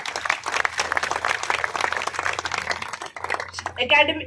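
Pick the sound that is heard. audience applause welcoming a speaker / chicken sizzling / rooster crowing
audience applause welcoming a speaker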